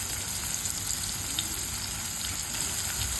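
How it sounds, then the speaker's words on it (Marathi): Chopped onion and garlic fry in hot oil in a kadhai, giving a loud, steady, dense sizzle without pause and only faint hints of stirring. "इथे तेल गरम झालेलं आहे आणि लगेच आपण त्याच्यात कांदा आणि लसूण टाकून घेतलेलं आहे"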